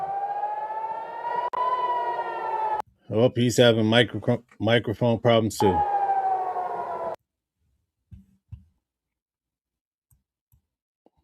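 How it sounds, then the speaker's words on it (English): Air raid sirens over Tel Aviv, a steady sustained wail held for several seconds, cut through by a burst of speech, then resuming before stopping abruptly into near silence. "Those are the air raid sirens."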